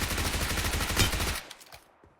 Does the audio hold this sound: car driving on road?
no